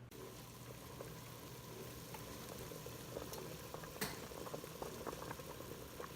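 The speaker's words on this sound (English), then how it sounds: "Now you saw that the water was boiling" Water at a rolling boil in a pot on a kitchen stove gives a steady, quiet churn of bubbling and popping with a few brighter pops. No one speaks.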